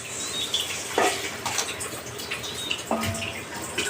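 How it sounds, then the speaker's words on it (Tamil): Water splashes and trickles steadily, with a couple of louder gushes as about a litre is poured into a soup pot, close by. "ஒரு லிட்டரு தண்ணிக்கு அதில் ஊற்றணும்"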